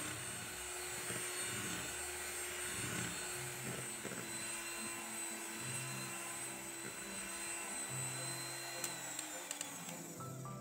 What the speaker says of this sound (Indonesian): pindahkan mixer ke kecepatan tinggi. Lanjut mixer sampai putih berjejak.